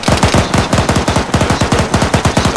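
Automatic rifle fire in the military shooter ARMA 3, a loud, rapid, steady stream of gunshots in quick regular bursts, heard alone without talk.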